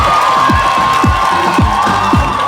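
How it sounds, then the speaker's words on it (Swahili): A comedy show audience bursts into applause and cheering, a dense, steady wash of crowd noise and clapping that holds at full loudness throughout with no talk. "Makofi."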